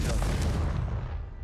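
A Confringo blasting spell detonates in Hogwarts Legacy, a single heavy, deep boom that rolls out and fades over a second and a half, following straight after a spoken incantation.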